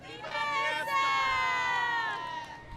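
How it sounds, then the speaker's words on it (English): A big, excited crowd cheers and shouts along the route of the King William Parade during Fiesta, a steady roar of many voices lasting a few seconds. "We have a big crowd over here ready."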